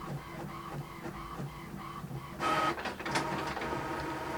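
A nearby printer works through a page, starting with a rhythmic series of soft mechanical feed clicks and then shifting into a louder whirring, rattling print pass.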